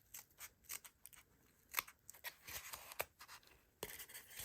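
Scissors snip through craft material for a faerie house in a quick series of faint, crisp cuts, with short pauses between snips and no talking.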